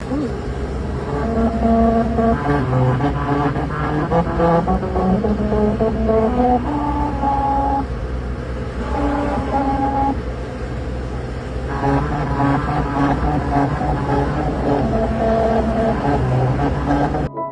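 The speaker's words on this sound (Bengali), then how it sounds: "ঠিক ষাট থেকে সত্তর কিলোমিটার স্পিডে যদি কোনো গাড়ি চলে সেই রেখার ওপর দিয়ে তাহলে তোমরা আওয়াজটা শুনতে পাবে" Car tyres rolling over a musical road's grooved strips in India at about sixty to seventy kilometres per hour, ringing out a melody as a steady series of loud, stepped pitched tones lasting throughout, over continuous road rumble.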